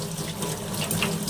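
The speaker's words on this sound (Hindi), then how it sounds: "खूब अच्छी तरह से इसे ठंडी पानी में नल के नीचे डाल करके धो लेते हैं" Cold tap water runs from a faucet over cooked noodles being rinsed, a steady close hiss of splashing water.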